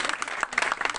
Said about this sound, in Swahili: Tupige makofi mazuri.